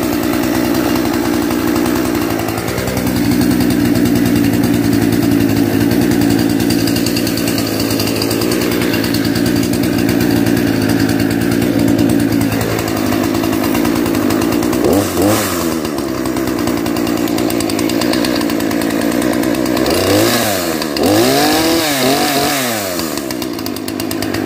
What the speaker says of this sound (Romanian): După cum ați văzut, drujba merge foarte bine.